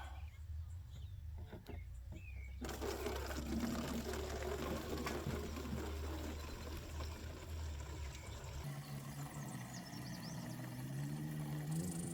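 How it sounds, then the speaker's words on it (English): Gasoline poured from a can into the fuel tank of a 1940s Ford tractor outdoors, a steady faint splashing trickle lasting several seconds over soft background noise. "let's fill this bad boy up with what's left in our gas tank here"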